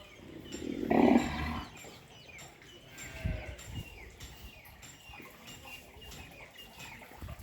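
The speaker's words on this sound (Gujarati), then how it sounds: "આ ગાયો વિભાગનો ભાગ છે." Cattle in a cow section of a gaushala, with a faint low moo and scattered animal and bird sounds in a quiet, distant barn ambience.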